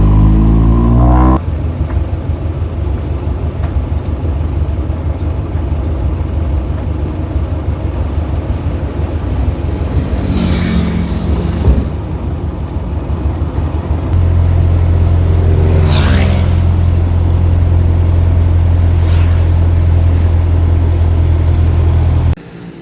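Steady loud rumble of a local vehicle's engine, heard from inside while riding through Thailand, with a deep drone that shifts pitch partway through and brief passing whooshes, continuous throughout and no talk.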